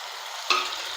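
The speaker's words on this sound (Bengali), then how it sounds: "এবার দিয়ে দেবো ভেজে রাখা সবজি আর আলুটা।" Spoon stirring fried vegetables, potato and tomato in a pan, a brief scrape with a soft sizzle underneath, close and fairly quiet.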